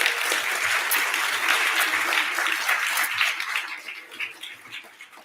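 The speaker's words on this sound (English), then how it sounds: "I have to give you a round of applause." An audience at an inauguration day ceremony breaks into sustained applause, a dense wash of clapping that holds steady and then thins out and fades toward the end.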